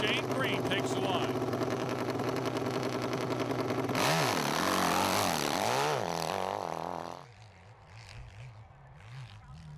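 KTM hill climb motorcycle with a 1400cc engine roaring loud and close, then the revs swoop and fall as the throttle closes before cutting away to quieter background, with a commentator's voice over the engine.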